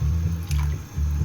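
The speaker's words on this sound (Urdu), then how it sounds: "تھوڑا پانی اور ڈالوں گی۔" Water poured into a pot of potato curry for halwa puri, splashing and trickling close by in short bursts with a brief pause between pours.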